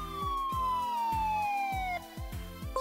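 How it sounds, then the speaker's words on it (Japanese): A Tomica Town toy fire engine sounds its siren, a thin electronic wail sliding slowly downward before restarting, over a steady, evenly spaced rhythmic beat. "消防車出動。"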